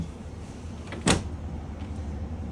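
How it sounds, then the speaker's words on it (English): A single soft, muffled thud of a slow-closing cabinet door shutting in the bathroom of a 2023 Forest River Salem Hemisphere 36FL fifth wheel RV, close by against a quiet room hum. "And they are the slow closing cabinet doors."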